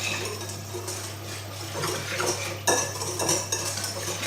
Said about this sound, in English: I'm just going to whisk that together.